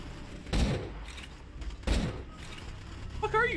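Gunfire crackles in the Borderlands 2 co-op video game: two sharp, fairly close shots roughly a second and a half apart, with clanking game sounds and speech in the background.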